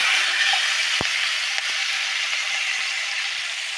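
Steady hissing sizzle of fish with drumstick stalks frying in a pan, continuous throughout, with one faint knock near the start.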